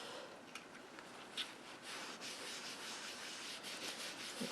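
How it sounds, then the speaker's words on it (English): A microfiber cloth is wiped across a craft surface during card making, giving soft, faint rubbing swishes in irregular strokes, close by and without any talk. "I'm going to bring in a microfiber cloth, wipe my surface off."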